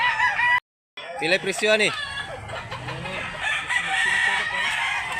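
Roosters crow and chickens cluck at a busy poultry market, with a loud close crow standing out over constant background clucking and people talking.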